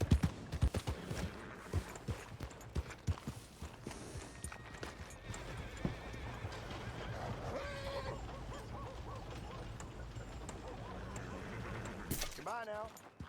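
Horse hooves clip-clopping at a steady pace in the video game Red Dead Redemption 2, with a brief neigh near the end, heard under game ambience and muffled background voices.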